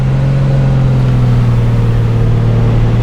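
A simulated Piper Comanche 250 engine with A2A Accu-Sim in the FSX flight simulator drones loudly and steadily under power, with a constant low hum and propeller tone, with no voices.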